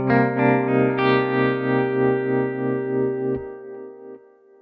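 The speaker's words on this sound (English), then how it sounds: "With the tape delay." Pedal steel guitar through a Morgan Amps Suite amplifier with tape delay engaged: a sustained chord with a few picked attacks swells steadily, is damped late, and leaves brief echo repeats trailing off.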